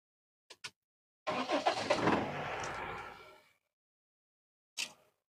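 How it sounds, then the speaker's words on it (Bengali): A secondhand motorbike engine is kicked over with a couple of sharp clicks, then catches on the first try and runs roughly for about two seconds before cutting out, followed by one more brief burst. "গাড়ি ঠুকা মিস নাই, ঠুকায় ঠুকায় স্টার্ট।"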